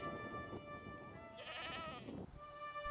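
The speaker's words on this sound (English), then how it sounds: "How can poor small breeders feed this sheep flock?" A sheep flock on dry, water-scarce land in an Arab country, one animal letting out a fairly clear wavering bleat over a low, steady outdoor background.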